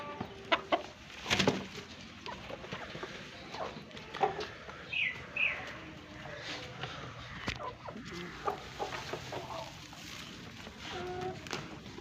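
Hens clucking on a poultry farm, several close, uneven clucks and squawks scattered over a quiet background, with a little faint talk.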